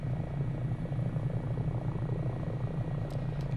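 Simulated HH-65 Dolphin helicopter in Microsoft Flight Simulator 2020, giving a steady, close rotor and engine drone with a deep, even hum that holds unchanged throughout, with no voices.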